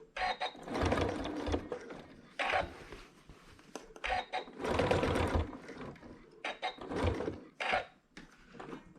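Domestic sewing machine stitching the sashes of a hexagon quilt in short, close bursts of whirring stitches that start and stop repeatedly.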